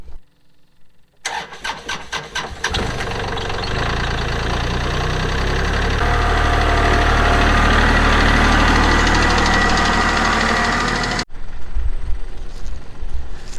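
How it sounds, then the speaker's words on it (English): A tractor engine cranks and fires up, then runs loud and steady at close range with a rough, knocking rumble for about ten seconds before cutting off abruptly, leaving quieter background noise. "we're going to fire up the tractor, get some wood, and get splitting."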